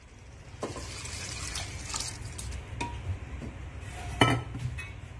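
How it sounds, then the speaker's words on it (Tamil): Three cups of water pour and splash into a pot for mushroom biryani amid light clinks of metal and glass, close by, with a sharper clatter near the end. "இப்ப 3 கப் தண்ணி சேர்த்துக்கலாம்."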